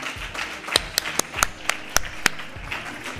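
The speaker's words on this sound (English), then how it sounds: "Ladies and gents, a big round of applause for Maria Benjumea." Audience on an arena stage at a startup summit in Valencia greets Maria Benjumea with scattered applause, a handful of sharp, distinct claps ringing out irregularly over a low, diffuse crowd murmur.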